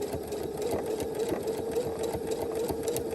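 A sewing machine sews a straight stitch at 3.0 length, its motor humming steadily with a fast, even needle clatter throughout, close by and with no talk.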